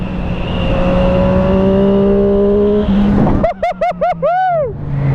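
A Triumph Street Triple RS 765 motorcycle engine pulls hard, its pitch climbing in a long rising whine before a burst of rapid shifts and revs that snap upward in quick, loud, close steps.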